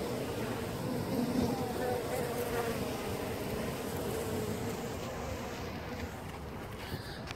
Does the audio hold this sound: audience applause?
no